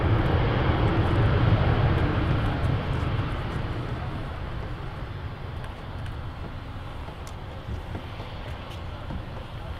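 A Ryanair airliner roars on the runway at Manchester Airport, a loud, broad engine rumble that swells early and then holds steady with some wind noise.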